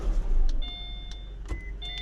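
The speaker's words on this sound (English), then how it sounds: "Car starts." A 2014 Subaru Forester's engine starts with a low, steady rumble, mixed with several short electronic chime tones from the car.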